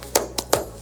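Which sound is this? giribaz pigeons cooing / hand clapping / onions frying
hand clapping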